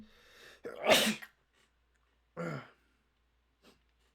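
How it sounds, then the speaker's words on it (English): One loud, close sneeze bursts out, preceded by a breathy intake and followed by a short throaty exhale and a faint click, with silence in between. "I gotta sneeze."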